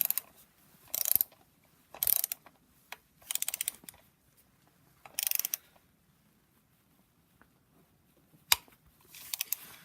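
Ratchet wrench clicking in short close bursts while steel bolts are tightened on a BMW N54 engine from a 135i, several separate runs of rapid metallic ratcheting with quiet pauses between them.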